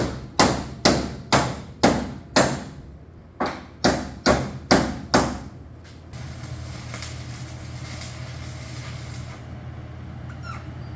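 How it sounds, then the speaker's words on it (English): A ball peen hammer strikes metal during a floor welding job on a Bombardier, about ten sharp, evenly spaced ringing taps close by, then a steady fan hums in the shop. "tap it a bit here so it's tight. You can use the ball peen right there."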